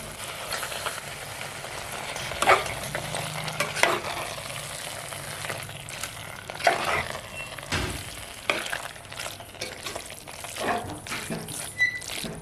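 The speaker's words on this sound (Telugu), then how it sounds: "ఇప్పుడు మటన్ కీమా వేసుకుందాము." Mutton kheema fries and sizzles in a pan while being stirred, a steady close crackling hiss with scraping stir strokes throughout and no talking.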